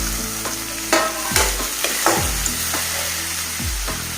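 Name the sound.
tomato frying and being stirred in pan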